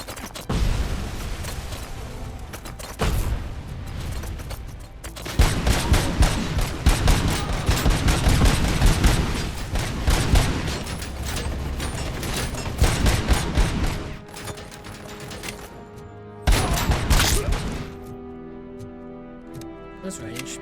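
Pistol gunfire in the first-person shooter RoboCop: Rogue City, dense runs of rapid, loud shots and impacts with brief pauses, mixed with game effects and a voice speaking over parts of it.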